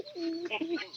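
Pigeons cooing close by, with low rolling coos rising and falling across about a second, with no talk over them.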